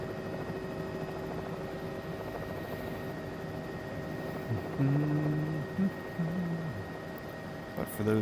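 A helicopter's engine and rotor run steadily in flight with a constant close mechanical whine and hum. Someone talks briefly over it near the end.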